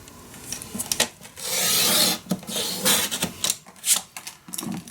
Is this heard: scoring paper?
yes